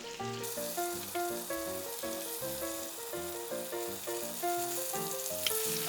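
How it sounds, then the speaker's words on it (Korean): Chicken wings fry in a single pan over medium heat, giving a steady, close sizzle that runs the whole time with no talking. "한 중불 정도로 하셔서 우선 충분히 익을 수 있게 천천히 구워주세요"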